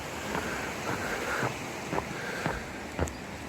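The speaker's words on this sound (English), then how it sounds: "If I had to guess, I would say that's Ettrick water, since this is the Ettrick Valley." The Ettrick Water, a river in the Ettrick Valley of the Scottish Southern Uplands, rushes and hisses as a steady broadband wash with a few brief louder splashes and some wind buffeting the microphone.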